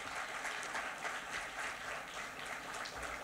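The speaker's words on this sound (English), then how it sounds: "that applause was not enough. I want a bigger one, please." Conference audience clapping at a mid-year professional meeting, a faint, even patter of many hands heard from a distance and lasting a few seconds.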